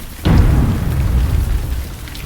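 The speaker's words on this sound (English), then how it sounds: "The rains, wind, lightning, and thunder continued on" A sudden deep rumble of thunder rolls in over heavy rain on the Camino de Santiago trail, staying loud for a second before easing back to the steady downpour.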